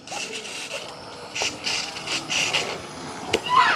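Tiny servos on an E-Flite UMX Pitts RC plane whir and buzz in short repeated bursts as the control surfaces are moved, close and fairly loud with no talking.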